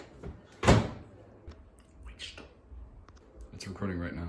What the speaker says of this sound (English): The door to the microwave.